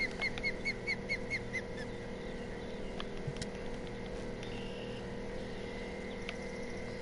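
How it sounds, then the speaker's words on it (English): Small bird chirping repeatedly in Fishing Planet in the Florida Everglades, a steady series of short high chirps in a regular rhythm over a constant ambient background of water and a low hum. "Maybe that bird will stop chirping"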